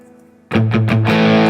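An electric guitar played through the Plexi amp preset of a NUX MG30 multi-effects unit, a few loud, slightly distorted strummed chords starting suddenly after a near-silent moment and ringing on up close.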